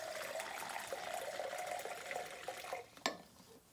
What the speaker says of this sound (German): Das kannst du auf jede Flasche draufschrauben und Wasser zapfen.